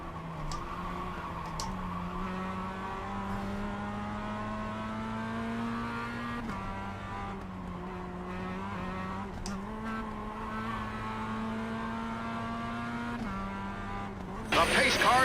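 Mazda MX-5 Cup race cars drone past in a pack, their engines holding steady pitches that step up and down through gear changes. The sound is fairly distant and continuous, ending in a brief burst of noise.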